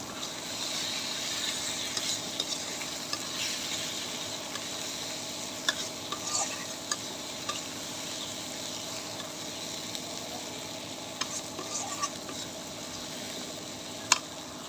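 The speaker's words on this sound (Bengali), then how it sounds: "দেখুন এই যে তেল উঠে গেছে।" Spicy chepa shutki bagar made from dried fish fries in oil with a soft, steady sizzle, close by and quiet, marked by occasional light clicks from stirring.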